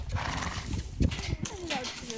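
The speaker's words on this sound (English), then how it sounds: "These are all very, very friendly horses." Horses kept for riding in Iceland whinny and snort close by, with hooves clip-clopping in short uneven bursts while people talk over them.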